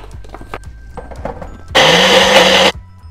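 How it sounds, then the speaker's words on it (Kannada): A mixer grinder roars steadily for about a second, grinding fried ingredients into a coarse powder for a Ganesha festival sweet, after some kitchen clatter and handling. "ಇವಾಗ ಇದೆಲ್ಲ ಹಾಕಿ ಪುಡಿ ಮಾಡಬೇಕಾಗತ್ತೆ"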